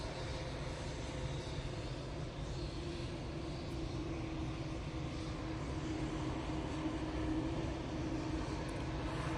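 A TUI Boeing Dreamliner taxis toward runway 23 left at an airport, its engines producing a continuous low rumble and broad hiss at a distance, steady and unbroken, with no talking.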